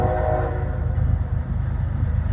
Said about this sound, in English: next train, eastbound intermodal, single locomotive in the front.